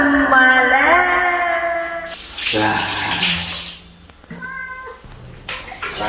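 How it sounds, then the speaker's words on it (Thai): A cat yowls and meows with rising, wavering cries while it is bathed, then running water from a tap or shower hisses loudly, and a few shorter meows follow over the splashing. "วันนี้เรามาจับน้องแมวเหมียวอาบน้ำกันนะจ๊ะ"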